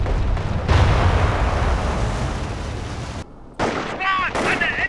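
Gunfire in the wartime strategy game Company of Heroes, a dense stretch of rapid shots and booms that cuts off abruptly, followed by more bursts mixed with shouted voices.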